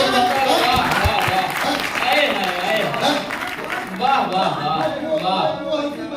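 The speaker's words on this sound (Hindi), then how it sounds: "बजाओ यार पूरी ताली" Audience clapping at a public gathering in Lucknow, a dense, steady patter of many hands sustained throughout, with voices mixed in under it.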